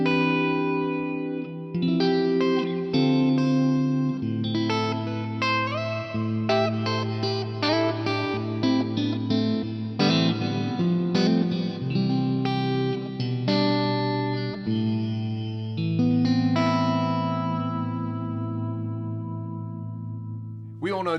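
Electric guitar through a Fractal Audio unit with its default large hall reverb set to a 50% mix, clean notes and chords played alone with long washy tails that hang and blend between phrases.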